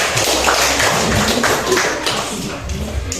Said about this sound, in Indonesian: Oke, kita tepuk tangan untuk Andina.